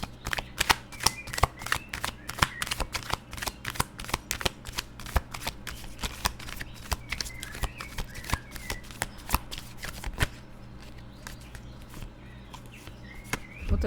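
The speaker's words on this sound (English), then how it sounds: "Well, let's pull some cards." Tarot cards are shuffled near and alone, a long run of fast crisp riffling clicks in steady bursts that ease slightly toward the end.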